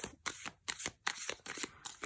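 Tarot cards, a 2023 Rizzoli Marvel deck, being shuffled close up, a quick series of crisp riffling bursts in an uneven rhythm, with no talking.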